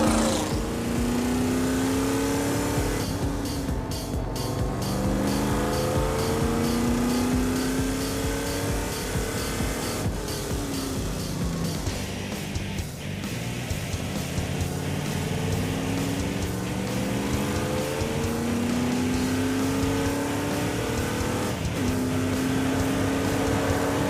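A loud engine roars continuously, rising and falling in pitch as a car accelerates and shifts gears at speed on the Laguna Seca race track, with no talking.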